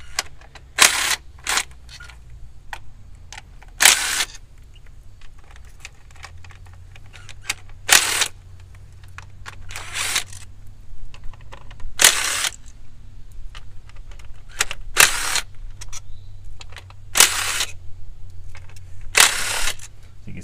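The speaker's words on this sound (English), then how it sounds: "You can see the impact works tremendously faster than using a ratchet" Short bursts from an impact wrench spinning out valve cover bolts on a BMW M54/M52tu inline-six, with about eight sharp, loud rattling bursts spaced irregularly over a low steady hum, close up and with no talk.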